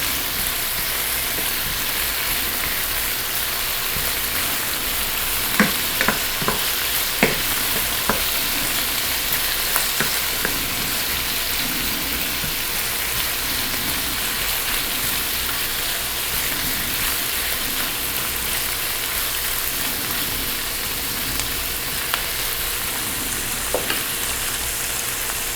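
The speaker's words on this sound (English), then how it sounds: "brown the bacon so we can get that lovely, lovely bacon grease off of it. And we also want to cook the onion down" Bacon and onion fry in a pan with a steady, dense sizzle throughout, broken by a few brief clicks and stirring taps, with no talking.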